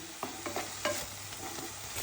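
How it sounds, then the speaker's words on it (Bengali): Onion and tomato fry in a pan with a quiet, steady sizzle, broken by several soft scraping stirs of a spoon, heard close with no talking. "পেঁয়াজ আর টমেটোটা খুব ভালোভাবে ভাজা হয়ে গেছে।"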